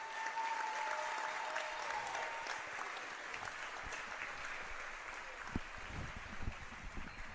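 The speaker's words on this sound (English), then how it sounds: "Let's give them all a round of applause." Loud, sustained audience applause fills a gym crowd at halftime of a senior night game, a steady wash of clapping that continues throughout with no talk over it.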